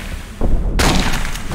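A video game grenade explodes with a loud, sudden broadband blast that booms and rumbles on for over a second, with a softer thump just before it.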